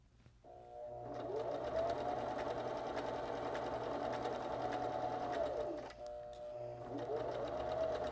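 A sewing machine stitches a blind hem across a bulky side seam, running as a steady close whirring hum that stops briefly near the end and then starts again.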